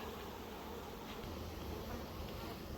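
Honeybees buzz steadily around an open hive during swarm work, a dense continuous drone close by with no talking.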